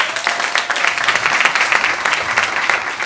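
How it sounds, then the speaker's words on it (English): A room full of people at a book release party breaks into steady, dense applause: many hands clapping close together, loud and continuous from start to finish with no voices over it. "So if we could just give you guys a round of applause"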